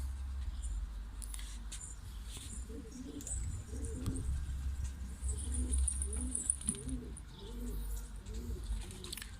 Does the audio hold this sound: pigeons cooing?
yes